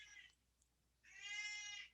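A cat meows twice indoors, a short call followed by a longer, louder drawn-out meow, fairly close in a quiet room with no talking.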